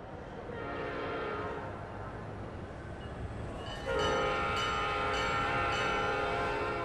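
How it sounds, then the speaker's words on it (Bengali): A train pulls in, its rumble building before a loud, sustained horn blast cuts in near the middle and carries on to the end over the rolling rail noise. "দেখি ট্রেন বাবাজি এলো কিনা।"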